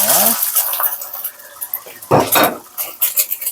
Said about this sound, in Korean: 팬이 어느 정도 달궈지면은 계란 2개를 먼저 볶아줍니다.